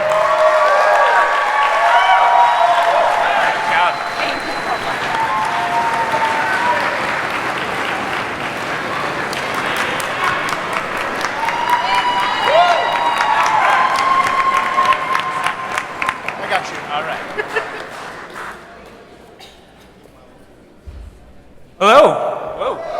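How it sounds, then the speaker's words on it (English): Wedding reception guests applaud and cheer for the groomsman, a dense wash of clapping with whoops and voices mixed in, sustained for most of the stretch and then fading out near the end. "can we please have a round of applause for Gabe's groomsman"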